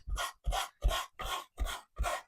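Wood being sanded by hand on a repurposed display case, heard as six even, rhythmic rasping strokes close to the mic.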